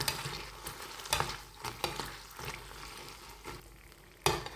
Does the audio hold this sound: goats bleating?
no